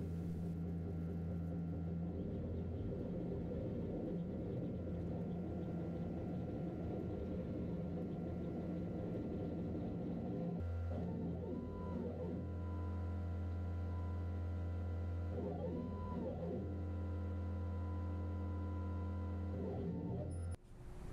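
An Orion Motor Tech 55W CO2 laser engraver running at 40% power, sped up: a steady droning hum with the exhaust and air assist, plus repeated short rising whirs as the head traverses, close and continuous with no talk.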